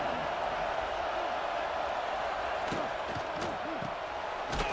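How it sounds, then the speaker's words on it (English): Stadium crowd in College Football 26 roaring loudly and steadily throughout, a dense broadband wall of cheering at a Wisconsin football game with a few brief thumps and whistles near the end. "Listen to this crowd just shaking the girders of this place trying to help their defense."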